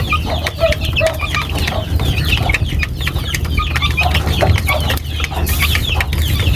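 Chicks and chickens cluck and peep busily at feeding time, a dense, close chorus of overlapping calls over a steady low background hum.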